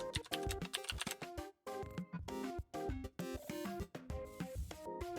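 Rapid computer keyboard typing as a product type is entered into a packaging design tool, with dense bursts of clacking keys broken by brief pauses, close and fairly loud.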